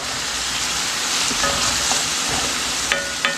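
Vegetables for veggie egg rolls sizzling and frying in a pan, a dense continuous hiss with a few faint clinks, close and loud.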